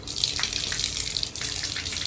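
Water runs steadily from a tap into a bathtub during a cocker spaniel's bath, a continuous close hiss and gush with slight surges and no voices.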